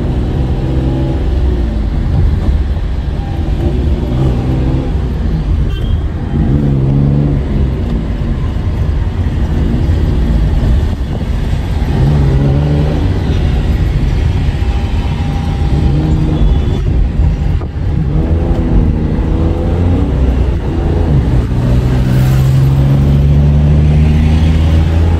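Car engine runs steadily during a first solo drive, with the clutch pressed as a beginner drives; a continuous loud low rumble with slight rises and falls throughout, no talk.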